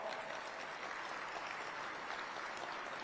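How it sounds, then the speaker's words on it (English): Faint, steady applause from the audience at a State of the City address, clapping for a newly named city education director, an even patter heard from a distance for about three seconds. "Let's give him a round of applause."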